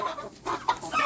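Chickens cluck in short close bursts at a poultry breeding farm in Warangal district, a few soft clucks and calls within a second.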